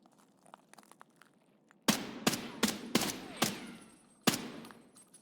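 Sniper scav gunfire in Escape from Tarkov: after quiet rustling, a series of about six loud, sharp rifle shots rings out, spaced irregularly with short echoing tails.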